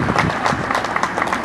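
Brief applause at a recruits' passing-out ceremony at a fire academy, a short burst of scattered clapping from an assembled crowd, moderately loud.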